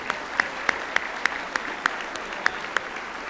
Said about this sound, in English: if you would join me in a big round of applause for the honorees